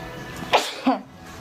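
Two close, sharp sneezes from a nearby person, quick and forceful, followed by a brief quiet stretch.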